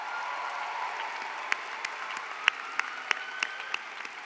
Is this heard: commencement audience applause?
yes